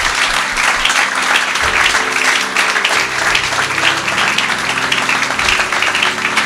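A church congregation applauds the pastor's wife, loud dense continuous clapping from a crowd in a hall, steady throughout with faint voices mixed in.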